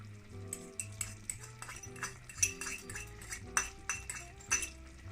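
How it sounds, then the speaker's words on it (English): Capers fry in tuna oil mixed with cooking oil as a utensil stirs the pan, light sizzling under repeated clinks and scrapes of metal, with a low tonal hum in the background. "Give it a stir."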